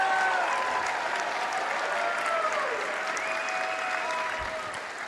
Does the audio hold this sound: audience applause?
yes